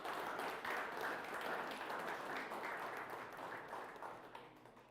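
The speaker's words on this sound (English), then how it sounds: "And one more round of applause for these guys, please." Audience applause at a high school fall sports awards ceremony, a steady wash of many hands clapping that holds for about five seconds and tapers slightly at the end, fairly quiet and distant.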